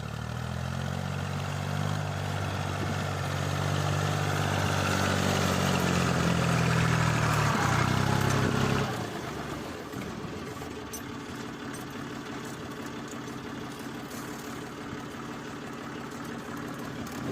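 A small Chinese tractor engine runs while ploughing a field with a Bellota plough. A loud, steady, close engine drone lasts about nine seconds, then drops to a quieter, rougher running sound.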